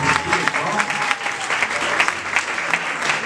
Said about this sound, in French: Ça s'applaudit, ça.